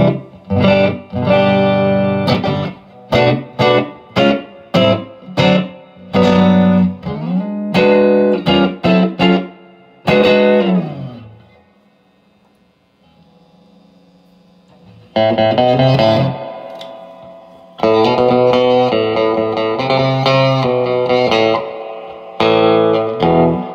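Electric guitar played through a valve amp built from an upcycled vintage Hammond organ in Vox AC15 style, loud reverb-drenched chords and strummed bursts with long decaying tails, a pause, then renewed busy playing.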